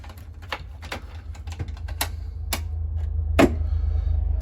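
A few sharp mechanical clicks and rattles of a key turning in the ignition of an Autosan Sancity M12LF bus, close by, over a low steady rumble.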